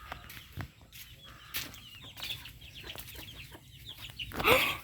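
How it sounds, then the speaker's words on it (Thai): Chickens clucking around an outdoor farm area, a series of short scattered calls of moderate loudness with a louder burst near the end, over a steady low background hum. "น้องไก่"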